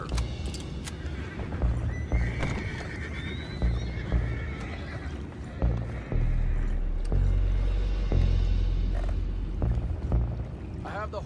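Horses in the Red Dead Redemption video game whinny and neigh over clip-clopping hooves and creaking movement, fairly close and moderately loud, with a low rumbling bed underneath and no talk.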